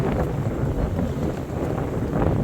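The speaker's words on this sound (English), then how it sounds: "It is so windy that there is a sandstorm going across" Strong wind over a river buffets the microphone in a loud, constant rumbling roar, gusting slightly throughout with a faint hint of boat noise and no talk.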